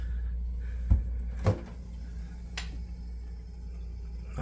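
A small fridge door in a Baltimore hotel room opens with a couple of sharp clunks and a soft latch click, close by in a quiet room with a faint steady hum.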